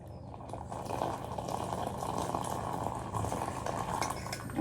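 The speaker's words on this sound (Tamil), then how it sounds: "காய்ச்சிட்டேன், இதை வடிகட்டி ஊற்றிக்கிறேன்" Boiled liquid is strained and poured, steady pouring and splashing continuously for several seconds, a soft even gush with no talking.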